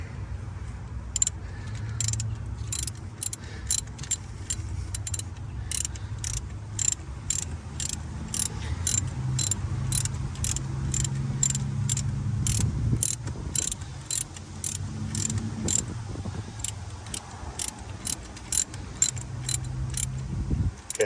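A socket ratchet tightens a spark plug on a Jeep Wrangler TJ, giving a long run of quick, evenly spaced clicks close up, steady and fairly quiet, with no talking.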